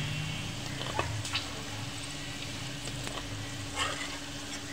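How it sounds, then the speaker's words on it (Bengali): Jackfruit seeds fry in a generous amount of oil, giving a steady low sizzle and crackle with a few louder pops, heard alone. "বাকিটা ভেজে নেব"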